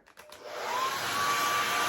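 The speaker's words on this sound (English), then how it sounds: "reuse this bag by using a hair dryer" A hair dryer whirs up after a few clicks and settles into a loud, steady blowing hiss, used to warm the glue on a bag's sticker.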